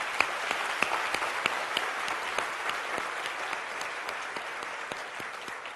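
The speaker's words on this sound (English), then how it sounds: "let's give applause there" Steady applause from a seated audience at a talk, fairly faint and distant, with individual sharp claps standing out over a continuous clapping wash.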